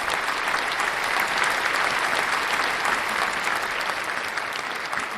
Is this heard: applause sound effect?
yes